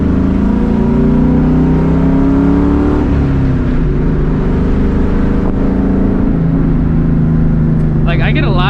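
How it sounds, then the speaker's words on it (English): A 2004 Mustang GT V8 drones loud and steady while driving, its engine note rising and falling under continuous low rumble, with a brief higher whine near the end; voices talk over it. "people saying that the car is loud, but I think it's just kind of like that V8 kind of loud"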